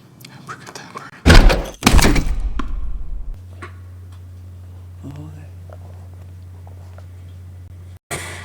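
A gunshot in the film The Prestige: a loud, sharp, close blast, quickly followed by a second heavy burst, then a low steady hum under quiet background sound.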